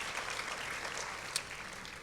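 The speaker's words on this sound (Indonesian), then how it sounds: "Tepuk tangan buat Tuhan kita yang mengasihi kita ya." A church congregation applauds during a worship service, a faint, even patter of many hands that carries on throughout with no one speaking over it.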